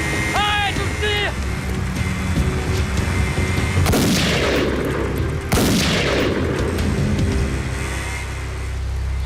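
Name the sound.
gunshot fired at a fleeing man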